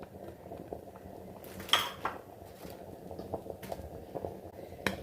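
Tomatoes go into a pot of sambar for an Onam sadhya and get stirred in, giving sparse clinks and scrapes of a spoon against the metal pot over a faint background bubbling, close and fairly quiet.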